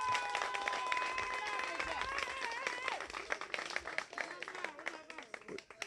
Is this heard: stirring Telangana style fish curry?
no